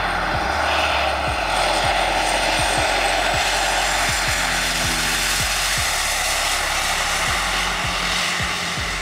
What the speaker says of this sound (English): Seaplane, an aircraft capable of taking off and landing on water